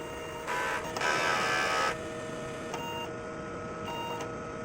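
A DTF printer runs a weak-mode print-head cleaning cycle: a steady mechanical hum with whirring pump or carriage bursts, one longer louder surge early on, then a few short clicks, with no talking.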